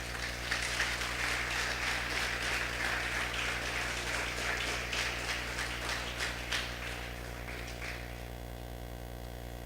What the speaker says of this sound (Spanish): Denle un aplauso al Señor,